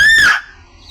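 A pet myna bird lets out one loud, shrill squawk at close range, a sharp screech lasting under half a second before falling to quiet.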